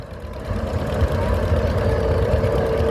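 A German vineyard tractor's engine idling close by, a low steady throbbing rumble with a faint tonal hum that swells slightly at the start and then holds level, alone without talk.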